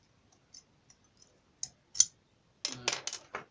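A BLP challenge lock is raked open with a pick. Faint, sparse metallic clicks are followed by a short cluster of louder, rattling scrapes and clicks, close up and quiet.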